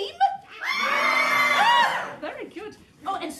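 A pantomime theatre audience lets out a long, loud collective scream lasting over a second, followed by scattered cheers, laughter and voices from the crowd.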